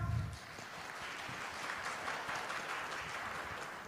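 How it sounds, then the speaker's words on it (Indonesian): Large audience applauding in a hall at a public talk with government ministers, a broad continuous wash of clapping that holds steady throughout, heard from a distance and fairly soft. "Boleh tepuk tangan teman-teman perempuan dong?"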